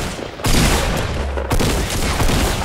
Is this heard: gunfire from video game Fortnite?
yes